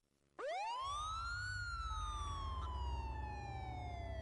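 An ambulance siren wails up out of near silence, its rising and falling tone sweeping loud and steady over a low rumble of traffic, with no voices.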